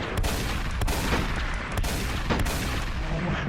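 Dense, crackling bursts of video game gunfire over a steady rumble, with several sharp shots standing out in quick, irregular succession.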